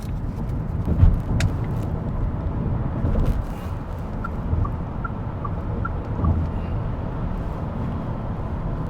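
Zeekr X electric car accelerating on the road, a low steady rumble of tyre and wind noise with no engine note, gusty buffeting and a few faint chime-like tones partway through.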